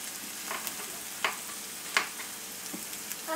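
Potatoes frying in a pan while being stirred: a steady sizzle runs throughout, broken by a few sharp scraping clicks of the utensil against the pan.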